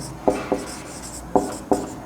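Chalk taps and strokes on a board as a solution is written, giving a few sharp, evenly spaced knocks close by over a quiet room.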